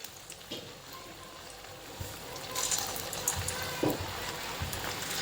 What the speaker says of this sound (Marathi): तर ह्याप्रमाणे आपण आता त्यांना फ्राय करून घेणार आहोत